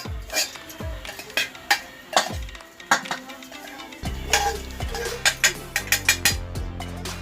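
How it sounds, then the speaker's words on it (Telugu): Roasted semolina is scraped and tipped from a pan into another bowl, with a series of close metallic clinks and spoon taps against the dishes, irregular and moderately loud, over a faint steady background hum. "వేయించిన రవని వేరే బౌల్లోకి మార్చుకో"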